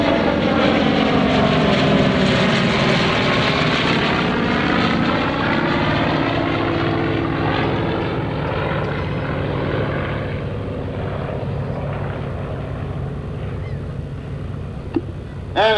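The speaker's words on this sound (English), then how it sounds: "That's a Hellcat and a Corsair right above the skies of Berks County." A Hellcat and a Corsair, World War II propeller fighters, roar overhead wing to wing at an airshow in Berks County, a loud sustained engine drone that sweeps past and slowly fades with shifting pitch.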